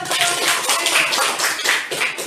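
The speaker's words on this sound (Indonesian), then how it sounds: "Tepuk tangannya" An audience claps after a group presentation in a classroom setting; close, loud clapping with individual hand strikes audible, rising and falling in uneven bursts across the clip.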